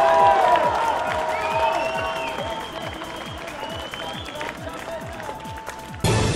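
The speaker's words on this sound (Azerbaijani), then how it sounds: "Paşinyanın bu sözlərini kütlə alqışlarla qarşılayıb" A crowd applauds Armenian Prime Minister Nikol Pashinyan during his speech in Khankendi, with steady dense clapping throughout, mixed with crowd noise, before a sharp louder burst near the end.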